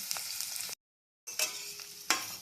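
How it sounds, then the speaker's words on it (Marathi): Cumin, mustard seeds, garlic, chilli and onion sizzle in hot oil, a steady broadband hiss that cuts out briefly and then resumes with sharper crackles and spits, close up with no talking. "तेल छान तापलेलं आहे ह्याच्यातच आपल्याला जिरे मोहरी घालून घ्यायची आहे लसूण मिरची व कांदा घालून घेऊ"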